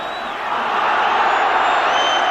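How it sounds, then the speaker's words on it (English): A home football crowd at a 1981 Dundee United versus Motherwell match reacts to a referee's decision, a sustained, swelling roar of disapproval with whistles and shouts that grows louder after a brief lull. "Local crowd don't like that decision"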